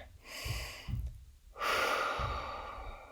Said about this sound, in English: I'll take a deep breath with you guys again